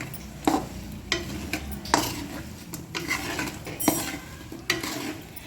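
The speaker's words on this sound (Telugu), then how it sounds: "ఇప్పుడు మనం దీన్ని బాగా కలుపుకోవాలి." A spoon mixes homemade chicken pickle with salt in a metal vessel, giving repeated scraping strokes and light clinks roughly once a second over a soft background sizzle, close up with no talking.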